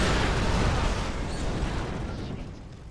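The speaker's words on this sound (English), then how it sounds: "That was the most random explosion I've ever experienced in a game." A loud explosion in the video game Far Cry 3, a heavy rumbling blast with deep low-end roar that fills the moment and slowly decays over a few seconds.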